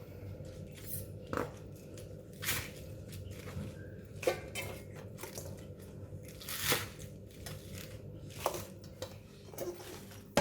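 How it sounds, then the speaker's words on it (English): A knife chops lettuce and crab balls on a cutting board in a home kitchen, making irregular soft crunchy cuts and sharp taps, close and fairly quiet, with occasional clinks of utensils. "I'm going to start off with cutting the vegetable first."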